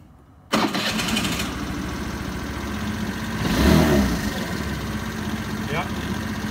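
Honda Metropolitan scooter fitted with a 95cc big bore kit starts up abruptly and settles into a buzzy idle, rising briefly in a rev partway through before dropping back, with voices talking over it.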